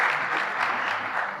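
A short burst of steady audience applause at a community event welcoming the Hidalgo County Judge to the stage, even and sustained for the whole moment.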